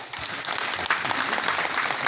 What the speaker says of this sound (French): Applaudissez pour le préfet.